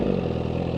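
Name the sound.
Suzuki GSX-R1000R motorcycle engine revving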